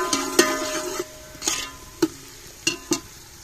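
Onions, chillies, ginger and garlic sizzle softly in hot ghee while a spoon stirs them, making sharp scraping knocks at an uneven rhythm over the low, steady frying hiss.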